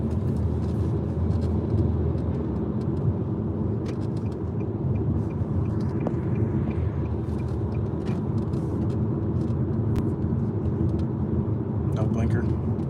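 Steady low rumble of car traffic crawling bumper to bumper on the I-25 highway, heard continuously from inside a vehicle with voices talking over it.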